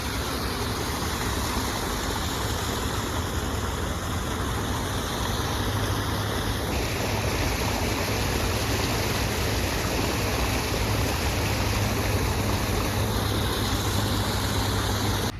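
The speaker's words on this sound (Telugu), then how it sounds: "అటు నుంచి ఇటు నుంచి నీళ్ళు అయితే చాలా స్పీడ్గా అయితే వస్తున్నాయి" Water rushing fast from both sides into a drained construction site at Amaravati: a loud, constant broadband roar with no pauses, with no voices over it.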